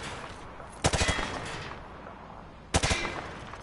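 Two bursts of rapid automatic gunfire from the hip in Modern Warfare 2, each a quick cluster of sharp shots over steady background noise, spaced about two seconds apart.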